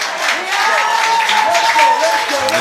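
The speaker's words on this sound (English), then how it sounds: "And here we can see the crowd just absolutely loving it." A crowd applauds after a Davis Cup tennis tie, dense steady clapping that runs underneath a commentator's continuous talk.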